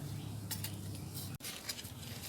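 A spoon scraping and clinking against a container while scooping material for aerobic compost, several short metallic scrapes and a clink, close, with a faint background hum.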